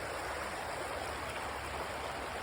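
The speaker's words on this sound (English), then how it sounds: "So the rapids come down, feed into here" River rapids on the East Fork of the Pigeon River near Canton, North Carolina pour into a deep pool, a constant broadband rush of flowing water, steady and fairly close with no other sounds.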